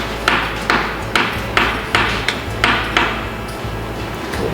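A hammer repeatedly strikes a steel punch while working on a tank's torsion bar, about eight sharp metallic blows at a steady rhythm, close and fairly loud over a low engine-like rumble.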